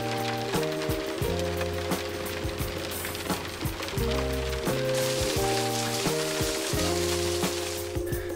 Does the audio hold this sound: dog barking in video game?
no